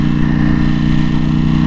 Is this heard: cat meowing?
no